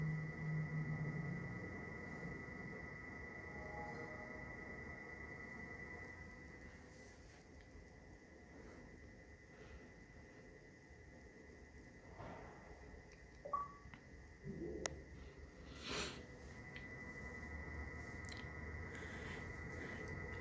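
Xbox 360 console starting up and running noisily: a steady high fan whine over a broad airy hum runs throughout, with a few brief clicks and bumps near the end.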